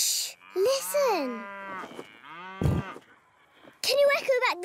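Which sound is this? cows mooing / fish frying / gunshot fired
cows mooing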